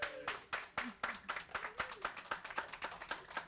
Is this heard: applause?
yes